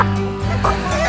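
Backyard chickens clucking close by, a few short rising and falling calls in quick succession with voices audible alongside.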